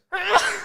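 A single sharp sneeze bursts out close by after a brief silence, breathy and forceful, trailing off without any talking.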